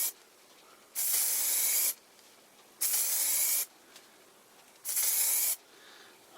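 Three separate bursts of aerosol spray paint, each a steady hiss lasting under a second, with short quiet gaps between them, in a shed.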